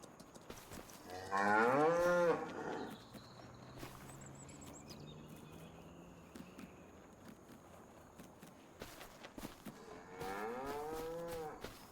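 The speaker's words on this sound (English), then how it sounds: "Baby cow's awake." A baby cow moos twice in Farming Simulator 25, a drawn-out close bellow followed after a quiet stretch of faint farm ambience and soft steps by a second, slightly quieter moo.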